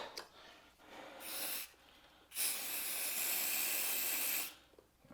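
Contact cleaner hisses from an aerosol can onto the electrical connectors of a 1984 Honda CB450SC motorcycle, close up in several bursts: two short sprays, then one long one of about two seconds.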